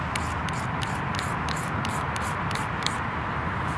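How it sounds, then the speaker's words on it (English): Magnesium fire starter rod scraped downward into a pile of shavings, a steady close rubbing rasp with rapid repeated strokes and no speech. "I found out that just scraping down, you don't lose as much"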